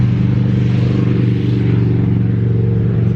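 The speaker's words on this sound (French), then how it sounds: "Là il y a une moto qui passe" A motorcycle engine drones steadily and loudly nearby as it passes through a town street, a low rumbling hum throughout with little change in pitch.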